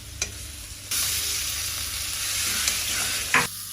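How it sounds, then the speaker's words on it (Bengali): Potatoes with salt and turmeric sautéed in a pan, with a continuous close sizzle and occasional spatula scrapes and knocks against the metal. "1 চামচের থেকে একটু কম হলুদ দিলাম। আলুটা দিয়ে কষিয়ে নিলাম।"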